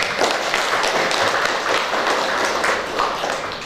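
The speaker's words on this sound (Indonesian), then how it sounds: "Mari kita berikan tepuk tangan." Guests at a church wedding blessing break into dense, continuous applause, a close and lively patter of many hands clapping for several seconds.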